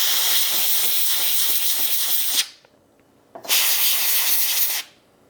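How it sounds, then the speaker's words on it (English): A compressed-air spray can blows air to clean a Canon FD 50mm f/1.8 lens. Two loud, close hissing bursts are separated by a brief pause. "I can spray it outside a little bit just to clear the channel"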